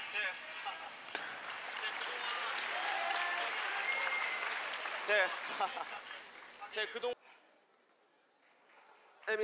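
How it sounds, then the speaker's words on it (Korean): Loud applause from an audience at a kickboxing event fills most of the clip, with voices mixed in, then fades to quiet near the end. "박수 유도도 하고"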